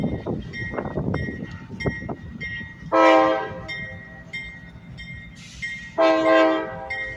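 A switcher locomotive horn sounds in two long, loud blasts a few seconds apart in Maxwell Yard, over the low rumble and clatter of nearby rail cars.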